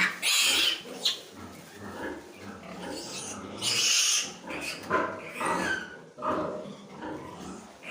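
Pigs of the Cantor breed, piglets offered for sale, grunt and squeal in a farm pen, with repeated nearby bursts over steady rustling and no talk.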